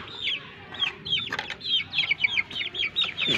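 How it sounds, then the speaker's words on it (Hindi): Chickens clucking and calling in a farm yard as they wait to be fed grain, a steady run of short, bright clucks from several birds close by, with some wing flapping and no talk. "मुर्गियों को डाल आते हैं जाके दाना"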